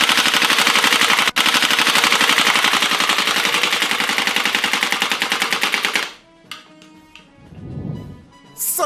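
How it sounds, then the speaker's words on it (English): Cybergun WE Thompson M1A1 gas blowback airsoft submachine gun firing one long rapid full-auto burst until the magazine is empty, loud and close, followed by a few quiet handling clicks and rustles. "let me just quickly empty the mag"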